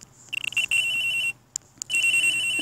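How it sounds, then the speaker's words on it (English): Electronic telephone ringtone in the Ace Attorney Phoenix Wright video game, two bursts of high warbling rings separated by a short pause, clear and close with no talk. "There's a phone ringing here."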